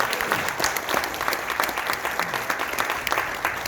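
At a regional Korean Medicine association general assembly, an audience claps steadily to welcome a National Assembly vice-speaker as he is introduced, an even, continuous round of applause with no voices over it.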